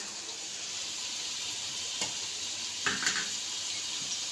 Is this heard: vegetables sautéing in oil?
yes